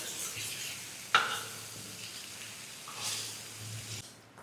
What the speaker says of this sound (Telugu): ఒక 5 నిమిషాలు మనం వేంపుకుందాం చికెన్ అనేది. ఆయిల్లో కాస్త మగ్గనిద్దాం.